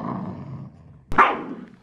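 Dogs tussling over a new toy, a large gingerbread-man dog toy, with a rumbling growl followed by a sharp snarling burst up close.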